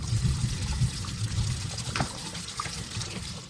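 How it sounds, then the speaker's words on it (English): Running tap water rinsing ripe peaches at a kitchen sink, a steady close splashing flow with a few brighter drips and trickles throughout. "First thing I'm going to do is give them all a really good rinse"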